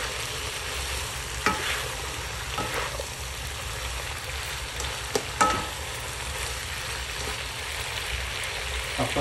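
Sponge gourd (patola) sautés in a pan with a steady broadband sizzle, broken by a few sharp clinks and scrapes of a utensil against the pan; no talking.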